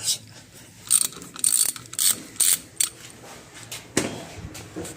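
A ratchet wrench clicks in short bursts while loosening a brake caliper bolt on a 2017 Dodge 2500 heavy duty turbo diesel, the close metallic clicking coming in several quick runs with brief gaps.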